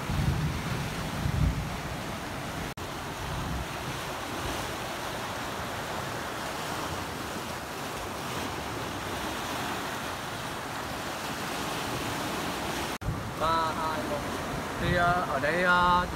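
Sea waves surge and crash onto a white-sand shore near a cave on the central Vietnam coast in Quang Tri, with steady wind rumbling through, and a voice speaks over the surf.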